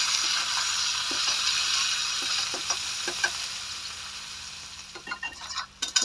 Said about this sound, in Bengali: পেঁয়াজ কুচি দিয়ে আমি ভালো করে ভেজে নিলাম